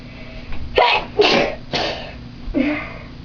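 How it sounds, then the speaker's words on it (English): Several sharp sneezes in quick succession, close and loud, with short pauses between them and a final sneeze after a brief gap. "we're making ourselves sneeze by putting bobby pins up our nose."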